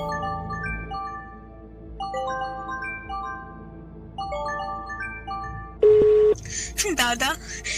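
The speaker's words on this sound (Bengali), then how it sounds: "তখনই বেজে উঠল সেই গৃহকর্তার ফোন।" A house owner's telephone rings as a sound effect in a horror story, a melodic electronic ringtone phrase repeating several times, followed by a sharp beep and brief noisy bursts.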